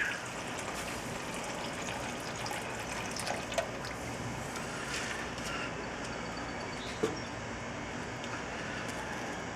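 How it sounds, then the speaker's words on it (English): Steady water pouring through a narrow gap into the water pan beneath a kettle grill cooking pork spare ribs, a continuous close trickle and splash with a couple of small clanks. "I am going to add just a little bit more water to the water pan underneath. Just going to pour it right in there through the crack."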